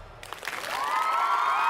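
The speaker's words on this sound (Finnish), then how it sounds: "Vierasfanit antaa aplodit." Away fans applaud in an NHL 26 hockey game, a broad wash of crowd clapping that swells after a brief quiet start and holds steady at moderate loudness, with cheering voices rising underneath.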